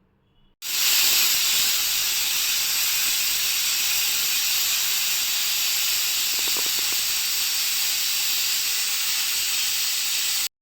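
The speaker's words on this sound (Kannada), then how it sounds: "ಇವಾಗ ಕುಕ್ಕರ್ ಕ್ಲೋಸ್ ಮಾಡಿ ಒಂದು ಮೂರು ವಿಷಿಲ್ ಬರ್ಸ್ಕೊಳ್ಳೋಣ" Pressure cooker with garlic inside releasing steam in a loud, steady hiss that starts abruptly and holds constant, close by and alone.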